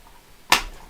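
A snowboard binding part snapping out, giving a single sharp click that stands alone against a quiet background.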